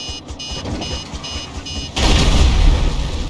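A helicopter explodes in GTA 5, beeping alarm tones giving way to a sudden loud broad burst of explosion noise that rumbles on to the end.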